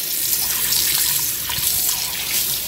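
Tap water runs steadily into a bowl as glutinous rice is rinsed and washed, a loud, continuous splashing rush with faint grains stirring and no voices.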